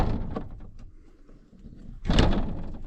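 Someone whacks a wedged, stuck door at a remote off-grid cabin: a softer knock early on, then one loud, close, heavy thump near the end, with quieter rustling and handling noise between.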